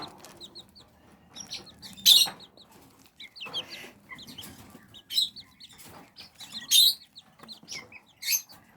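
Serama and white Silkie chicks, 24 days old and hatched in an incubator, give short, high peeps and soft clucks in scattered bursts, close by, with no one speaking.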